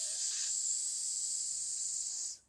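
Children's voices imitate a snake's hiss together in a classroom, one steady, loud, sustained hiss lasting about two seconds before cutting off.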